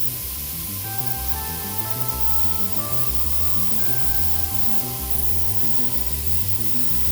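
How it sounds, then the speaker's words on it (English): An airbrush sprays red paint onto the gauntlets of a 1/6 scale Boba Fett model kit, giving a steady, close hiss that runs unbroken throughout over soft background music. "So I'm just going to go around and airbrush these gauntlets."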